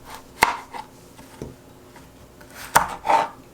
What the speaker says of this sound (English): I cut off the ends, and now I'll cut it in pieces